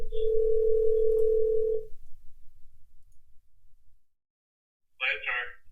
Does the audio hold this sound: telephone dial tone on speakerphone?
yes